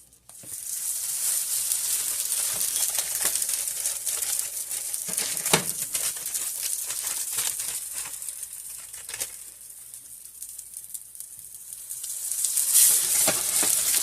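Crispy stuffed flatbread (goukui) fries in a hot skillet with a loud, steady, close sizzle and crackle throughout, briefly dipping before swelling again near the end, with no talking.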